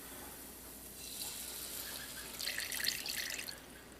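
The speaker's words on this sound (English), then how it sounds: "now I'm going to try to film and start adding in the milk" Milk is poured into a pan of flour-coated bacon as a soft, continuous liquid stream that swells in the middle and then eases off, close and fairly quiet.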